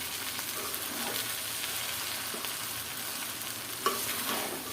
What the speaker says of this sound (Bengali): উল্টে পুল্টে খুব সুন্দর করে মিশিয়ে নিতে হবে।